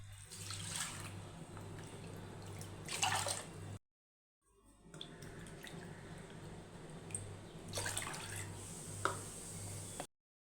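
Water poured over washed rice and moong dal in a cooker, two close pouring bursts separated by a short silent gap, with gentle trickling between the louder pours.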